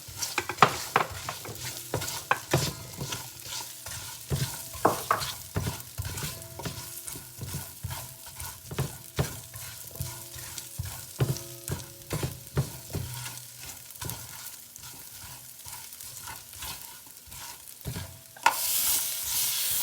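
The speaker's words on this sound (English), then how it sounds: "I'm just burning the curry. All right, so now I'm gonna put, this is the potato." Potato pieces sizzle and fry in a pan of vegan chickpea curry while being stirred, with steady crackling and repeated scraping of the utensil against the pan, fairly quiet and without talk.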